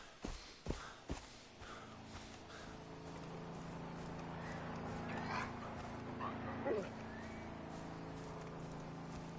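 Wolves in Far Cry 3 growl and yip, with a few sharp barks up front, then softer whimpers and calls over a steady jungle ambience, fairly faint and mid-distance.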